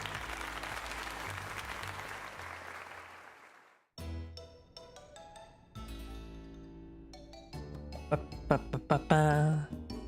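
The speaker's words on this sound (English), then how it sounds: "let's just give it a heartfelt round of applause to Lita" Applause-like crackling noise in Pokemon Legends Z-A fills the first few seconds, then cuts to game music and chimes with no clapping.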